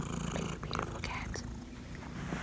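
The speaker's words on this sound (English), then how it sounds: "What a beautiful cat." A cat purrs softly and steadily while being cuddled indoors, the low rumble continuing close by with a few faint breathy sounds.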